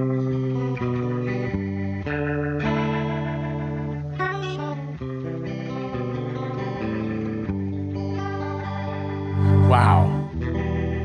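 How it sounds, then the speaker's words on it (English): An electric guitar through a Hughes & Kettner Rotosphere rotary speaker pedal plays melodic notes and chords with a swirling, warbling rotary-speaker shimmer, moderately loud, swelling into a bright sweep near the end. "Here comes the Rotosphere."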